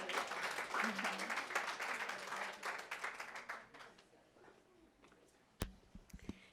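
Cheering section applauding at a school assembly, loud dense clapping and whoops that taper off after a few seconds, leaving scattered claps and a few sharp knocks.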